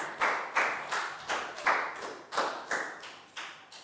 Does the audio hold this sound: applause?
yes